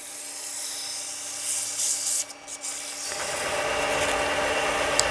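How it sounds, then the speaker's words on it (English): A wooden honey dipper spinning on a reversing lathe while 240-grit sandpaper rubs it, a steady close abrasive hiss that briefly dips and then resumes rougher and louder. "I have a reversing lathe, which makes it a little bit easier to sand."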